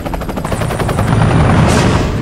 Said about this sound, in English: By far the most agile and nimble of the helos SOF forces use are the MH6 and the AH6 helicopters.